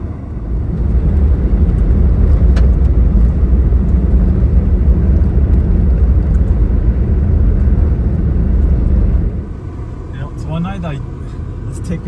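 An old Hummer in 4-wheel drive rumbles loudly along a rough dirt track in the Flora and Victoria Rivers region, its engine and road noise a heavy constant drone that drops away near the end while voices talk over it.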